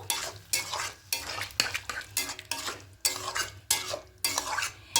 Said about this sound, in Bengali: এবার এখানে আলু মটর সেদ্ধটা দিয়ে দেবো দিয়ে খুব ভালো করে মিশিয়ে নেব